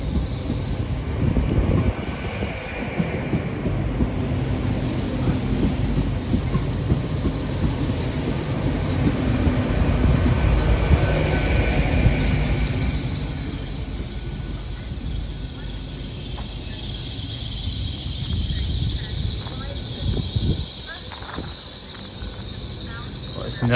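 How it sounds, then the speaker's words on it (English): A train passes through Teignmouth station on the Devon coast, its rumble and clattering wheels building then easing, with high squealing from the wheels and a chirping insect-like whine above. "Gonna end the video with a few more trains"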